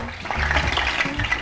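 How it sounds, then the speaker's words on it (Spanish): Peppers fry in plenty of oil in a pan, giving a continuous hissing sizzle dotted with small pops and crackles, close and fairly loud, with no talking. "los pimientos chisporroteando en la sartén"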